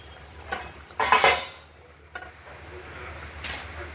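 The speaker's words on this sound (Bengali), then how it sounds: "আমরা ঢাকনাটি খুলে দিলাম।" A metal lid comes off a pot of prawn malai curry cooking in coconut milk, giving a couple of light clinks and one brighter clatter over a faint background hiss.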